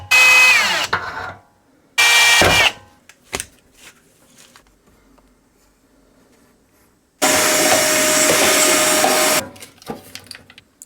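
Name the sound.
power drill drilling speaker holes in a Milwaukee tool box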